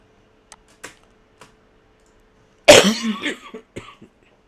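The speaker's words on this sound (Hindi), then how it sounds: "खांसी नहीं ठीक हो रही है मेरी" A single harsh cough bursts out, followed by a few smaller rasping coughs, with faint soft clicks and taps scattered before it in a quiet room.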